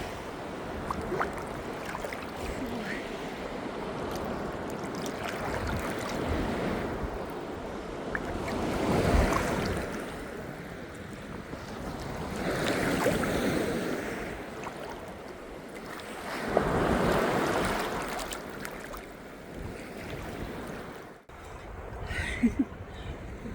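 Sea waves at dawn in Odesa, soft surges of surf swelling and receding every few seconds under a constant low wash and light wind noise, no talk.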